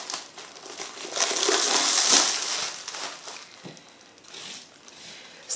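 Home-cured salmon, cured in salt, sugar, lemon zest and pepper, being unwrapped from its covering, heard as close, continuous crinkling and rustling that swells then fades, with no talking.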